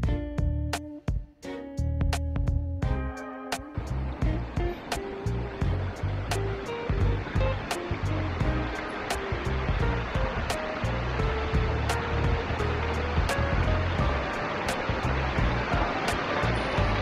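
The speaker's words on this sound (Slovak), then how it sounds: "Máme tu dva potoky, jeden teče po ceste a druhý u susedov." Two streams run nearby, one flowing down a road and another by a neighbouring house, a loud steady rushing of water close at hand that fills the whole stretch after a few early knocks.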